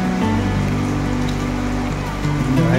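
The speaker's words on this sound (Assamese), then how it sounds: "সুন্দৰ বৰষুণ দি আছে" Rain pouring steadily near a small waterfall by a temple in Likabali, Arunachal, a loud, dense, even wash of falling water with a low tonal hum running underneath.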